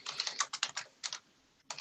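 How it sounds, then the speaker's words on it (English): Rapid bursts of typing on a computer keyboard, close and fairly quiet, in irregular clusters of keystrokes with a short pause near the end before a final flurry. "And typing. More typing."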